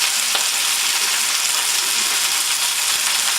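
Small meatballs of meat for pasta bolognese sizzle and fry in a hot pan, a loud steady hiss and crackle throughout, with no talk.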